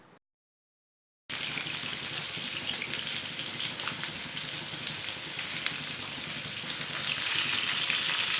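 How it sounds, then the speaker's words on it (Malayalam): Masala-coated fish frying in hot oil over a medium flame makes a steady, close crackling sizzle that starts abruptly after a brief silence and runs on evenly, growing slightly louder toward the end, with no voices. "ഇനി സ്റ്റൗ ഒരു മീഡിയം ഫ്ലെയിമിൽ വെച്ച് മീനൊന്ന് വറുത്തെടുക്കണം."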